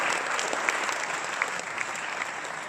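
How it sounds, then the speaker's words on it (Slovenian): A theatre audience at an open-air summer premiere of Deseti brat in Studenec applauds steadily, a dense, even roar of many hands clapping with a few sharper claps standing out and no speech over it. "Aplavz nadaljamo."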